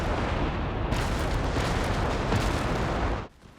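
Heavy artillery fire in the Company of Heroes 3 strategy game: a dense, roaring wall of blasts and rumbling explosions that holds steady for about three seconds, then cuts off abruptly to a low murmur.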